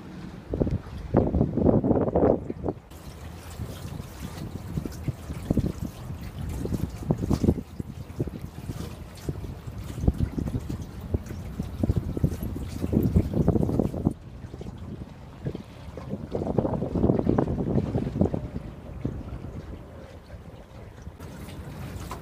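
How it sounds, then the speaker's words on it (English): A boat moves across open water, its low rumbling motor rising and falling as it passes, with wind buffeting the microphone throughout. "here's the boat coming around"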